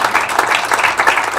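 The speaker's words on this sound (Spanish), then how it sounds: "por mi parte un grandísimo aplauso a" A short burst of warm applause from a colloquium audience, dense clapping at full volume with no talking over it.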